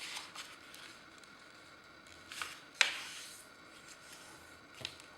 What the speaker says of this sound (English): You open the paper and fold two triangles in the front along the center crease.